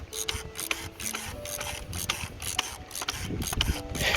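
A wrench tightens the oil filter on a 2017 Jetta SEL 1.8T, making rapid ratcheting clicks in short bursts, close and fairly loud, with small metallic rubs between strokes.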